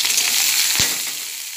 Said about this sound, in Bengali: ফুলকপি এগুলো ভালো করে ভেজে নিচ্ছি